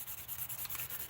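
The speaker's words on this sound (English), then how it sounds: "Trying to get the Maker's Mark sanded down." Sandpaper rubbing steadily on a carbon fiber bike frame to remove a maker's mark, a close, continuous scratchy rasp with regular back-and-forth strokes and no voices.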